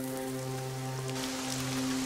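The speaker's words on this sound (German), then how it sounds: "Es regnet, es regnet" Steady rain patters in the video game Risen 2: Dark Waters over a low, sustained musical hum, an even wash of falling drops with no voices.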